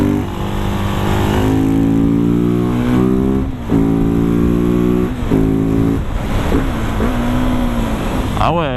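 A Husqvarna 701 supermoto motorcycle engine revs up through rising gears, loud and close, its pitch climbing and dropping between shifts, with wind noise throughout.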